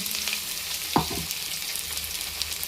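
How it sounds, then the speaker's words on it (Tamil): Colocasia (taro root) chunks frying in hot oil with popped mustard seeds, a continuous close sizzle with one sharp clack as the pieces are stirred and scraped around the pan. "சேப்பங்கிழங்கு சேர்த்துடலாம் சேர்த்து நல்லா கிளறி விட்டுடலாம்"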